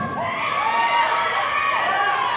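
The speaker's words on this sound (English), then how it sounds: "Oh yeah, go ahead and cheer," A crowd at a wrestling show cheering and shouting loudly and continuously, with whoops and young voices mixed into the roar.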